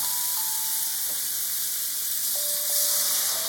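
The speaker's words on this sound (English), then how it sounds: "Fry the leek, then fry the onions." Leek and onions fry in a pan for Japanese home cooking, giving a steady close sizzle and hiss with faint tonal beeps over the top and no talk.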